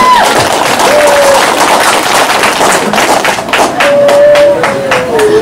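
An audience at a Cham community Katê festival event in the USA applauds loudly and steadily, with dense clapping throughout and a few sharp individual claps standing out near the end.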